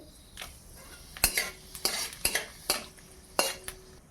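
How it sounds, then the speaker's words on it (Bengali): Dried red chillies, torn by hand, drop into hot mustard oil in a kadai, giving several sharp, close sizzling bursts and crackles at irregular intervals over a quiet background. "তেল গরম হয়ে গেছে, এবার দিয়ে দেবো শুকনো লঙ্কাটাকে এইভাবে ছিঁড়ে দেবো"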